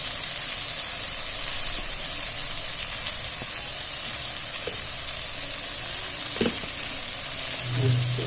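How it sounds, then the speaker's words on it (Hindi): Biryani vegetables fry with garam masala and salt, giving a loud, continuous sizzle and hiss with occasional spoon clicks and scrapes while being mixed, close and steady throughout. "इस तरीके से मिक्स कर लेंगे।"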